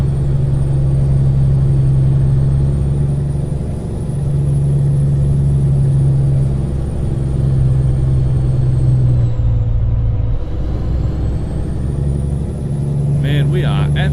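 A Mack Superliner truck engine drones steadily at speed in Euro Truck Simulator 2, loud and even, with a shift in pitch partway through and a high whine above it; a person talks over it.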